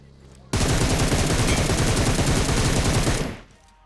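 Sustained rapid automatic gunfire in the mobile shooter PUBG Mobile, a loud dense burst of shots lasting about three seconds before cutting off, with no talk over it.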